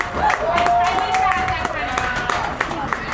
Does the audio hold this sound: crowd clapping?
yes